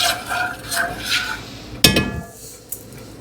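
A spoon knocks and scrapes against a pot of brown sugar sauce brought to a boil, with soft clinks, one sharp loud knock midway and a lighter tap after, close by with no talking.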